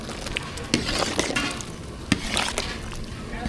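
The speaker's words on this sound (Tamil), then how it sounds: "மசாலா சேர்த்தாச்சு நல்லா கலந்து விட்டுக்கலாம்" Sambar in a large pot is stirred with masala powders, a steady scraping and sloshing churn with sharp ladle clacks against the metal, fairly close and continuous.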